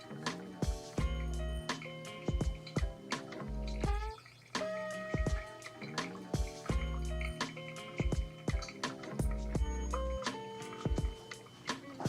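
Hot water poured over coffee grounds in a Kalita Wave dripper, a quiet pour with soft dripping and splashes under louder intermittent tonal background music lasting around twelve seconds.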